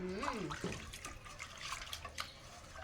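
Fresh water is poured in a short, faint, gurgling trickle, with a brief voice sounding at the start.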